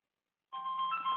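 A phone starts ringing abruptly after silence as an automated system places a call, producing a bright electronic melodic ring that stays steady and quiet, with no voices.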